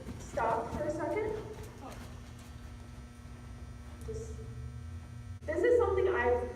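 Horse hooves clip-clop on the ground during a riding lesson as the rider is coached toward a canter, steady footfalls running beneath an instructor's talking that comes in bursts near the start and end.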